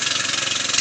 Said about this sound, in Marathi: समोर बघू शकता दादा इकडे ट्रॅक्टर चालवतोय